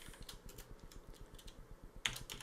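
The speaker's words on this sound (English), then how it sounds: "I can actually just type and it will automatically fill in for me" Fast, even keystrokes on a computer keyboard clatter close and quietly while someone writes code in an editor, with one sharper key press near the end.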